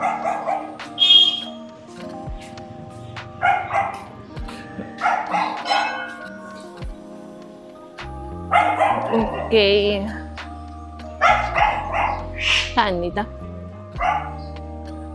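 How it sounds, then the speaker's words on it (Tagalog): A dog barks repeatedly in short bursts on a street in Nepal, mixed with people talking nearby and occasional background noise. "Yung aso."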